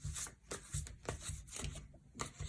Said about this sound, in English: I shuffle like you know, the playing cards